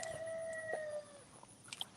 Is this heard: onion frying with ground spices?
no